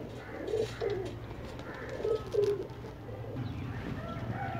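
Pakistani flying pigeons, mostly migratory birds kept by a fancier, coo in soft repeated bursts at moderate distance on an overcast day, with steady low background noise and no talk.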